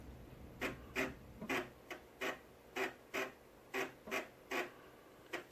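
Rhythmic mechanical chugging from an Amiga 3.5-inch floppy drive loading a game disk, a steady run of about a dozen evenly spaced clicks and whirs, close and moderately loud over faint background hiss.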